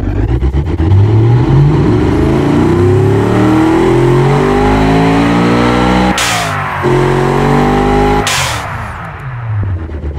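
The Gladiator 1000 engine of a drift car built in the video game Automation starts up and revs hard. A loud, continuous engine roar sweeps up and down in pitch, with two sharp breaks where the revs cut and climb again.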